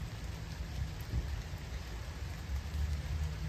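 Rain falls outside a home in Canada with wildfires nearby. It is a continuous, even hiss with a low rumbling undertone and scattered patter, fairly faint and steady, with no voices.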